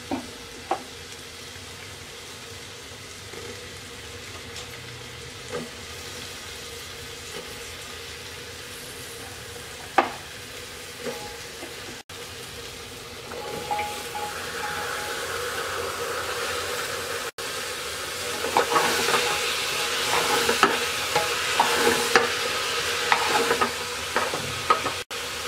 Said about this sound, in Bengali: এবার সবজিটাকে 2-3 মিনিট কষিয়ে নেব।